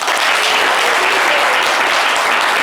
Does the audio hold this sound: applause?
yes